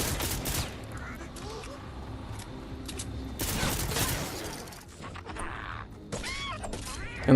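Enemy artillery fire in Fortnite: Save the World, set during a Fight the Storm mission, with bursts of blasts and gunfire-like crackle rising over a steady busy game backdrop, loudest around the middle, alongside other game effects.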